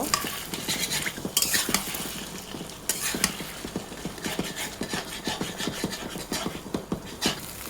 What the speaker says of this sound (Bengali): এই তেলের মধ্যে ফেটানো ডিমটা, আমি 3টা ডিম দিয়েছি, ডিমটা ভেজে নিব।